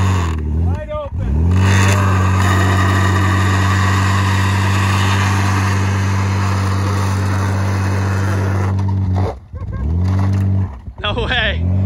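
A crashed Ford Fusion with a badly damaged front tire holds a loud, steady engine drone at wide open throttle for several seconds before dropping off, with people talking at the start and near the end.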